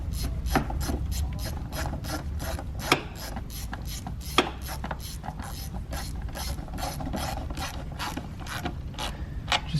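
A ratchet wrench clicks rapidly and rhythmically while tightening valve cover screws on a Ford Fusion engine, with a brief pause and a couple of sharper knocks between runs of close, crisp clicking.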